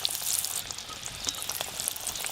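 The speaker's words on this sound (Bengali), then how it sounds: "এই আঁচে আমি খাজাগুলো ভাজছি" Khaja pastries deep-fry in oil over a low flame, giving a close, dense sizzle with scattered bubbling pops throughout, steady and without speech.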